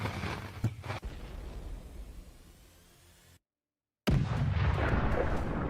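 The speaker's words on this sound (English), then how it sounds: "Ukrainian ATGM crews keep firing non-stop." Weapons fire in combat footage of Ukrainian anti-tank guided missile crews: sharp blasts and a dense roar of artillery-like firing, fading to a low rumble, cutting out briefly, then resuming loud and continuous.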